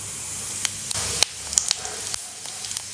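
Cumin seeds, a tablespoon dropped into three to four tablespoons of hot oil in a kadai, give a steady close hiss with scattered sharp pops and crackles throughout.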